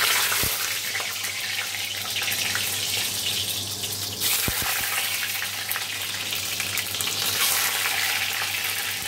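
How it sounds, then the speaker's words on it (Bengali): Eggs frying in a pan at home, a steady close sizzle and crackle running throughout with a couple of brief clinks of a utensil. "আগে ডিমগুলো ভেজে নেবো।"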